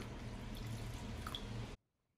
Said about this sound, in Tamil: நம்ம இப்போ தண்ணி விட்டு கலந்துக்கலாம்